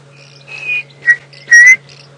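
A chinspot batis gives a few short whistled call notes, clear and isolated against a quiet background with a low steady hum.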